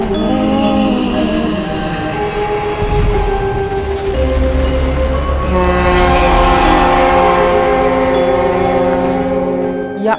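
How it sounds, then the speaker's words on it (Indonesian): A loud Thomas-style train horn in the GTA 5 video game blares in long sustained tones, layered over rumbling train movement close by. "klaksonnya keras sekali sih"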